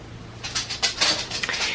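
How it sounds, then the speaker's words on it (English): Quick, light clicking taps of a dog's claws pattering across a hard floor, close by, in an irregular run of a dozen or so clicks. "You hear click clacks on the floor."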